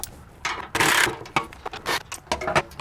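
A ratchet loosens 12 mm skid plate bolts under a 2023 Lexus GX460, producing loud, close bursts of rapid clicking with short pauses between strokes.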